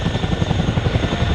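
A Chinook twin-rotor helicopter at the Oregon airshow in McMinnville gives off a loud, close, pulsing rotor thump over a steady turbine roar, with no voices.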